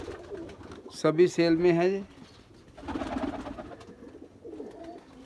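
Pigeons in a pigeon keeper's loft in Jammu coo in soft bursts around someone talking, with a louder warbling call early on and quieter cooing afterwards.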